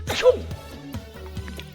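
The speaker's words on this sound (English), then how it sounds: "now if I sneeze" A video game character in Sniffer's Delight lets out a single short, sharp sneeze burst near the start, followed by softer game sounds and a faint voice.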